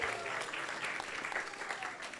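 Audience applause at a Krishna devotional gathering after an ecstatic arti, steady dense clapping throughout, fairly distant and moderate in level, with no voices over it.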